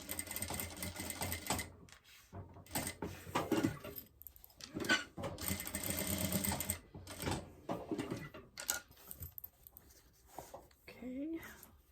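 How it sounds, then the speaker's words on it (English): A sewing machine stitches a zippered pouch with a 1/4-inch seam, running in bursts of fast, rattling stitching broken by short pauses, close by and fairly quiet, with someone talking in between. "So we're sewing these on at 1/4 of an inch"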